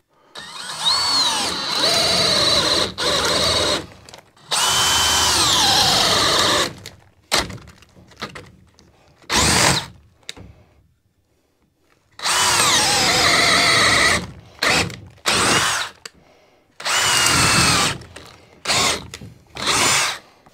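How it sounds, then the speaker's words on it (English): Loud bursts of a power drill with a spade bit boring through a wooden stud, several long runs and short stop-start pulses separated by brief pauses, close and harsh. "This is the best way I've found to do it is with a spade bit. Literally just go in there, just drill it."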